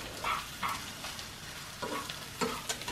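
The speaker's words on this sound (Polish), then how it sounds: "dziś szef kuchni zaprasza na jajecznicę" Scrambled eggs made from three eggs sizzle steadily in a pan while a utensil stirs them. Intermittent scraping strokes rise above the constant frying hiss, with no talking.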